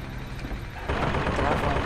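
BioShock Infinite gunfire erupts as a dense, continuous rattle of shots in the middle of game chaos. The shooting swells louder partway through.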